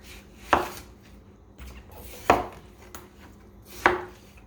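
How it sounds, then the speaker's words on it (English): A Pampered Chef 5-inch Santoku knife chops down through a watermelon core in three sharp, separate cuts spaced evenly apart, each a crisp close thunk against the board. "This is our Pampered Chef 5-inch Santoku knife, and as you can see, it is making mincemeat of that core."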